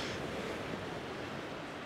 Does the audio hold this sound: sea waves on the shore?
yes